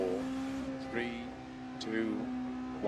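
Engine of a rally car in a video game, idling and blipping at the start line with clutch in and handbrake on. A steady tone is broken by a couple of quick revs, and a co-driver's voice talks over it.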